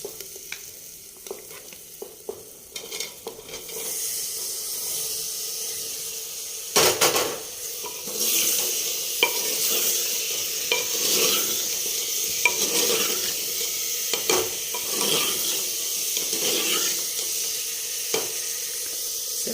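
Potatoes for aloo methi sabzi sizzle and fry in a clay pot, with steady close frying hiss, repeated scraping and stirring strokes, and occasional clinks of a ladle against the pot.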